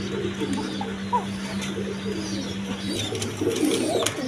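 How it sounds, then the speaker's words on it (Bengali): A pair of Chuachandan pigeons coo softly and repeatedly nearby, low rounded calls over a steady background hum, with a few faint clicks and rustles. "এখানে এক পেয়ার চুয়াচন্দন কবুতর আছে দেখেন"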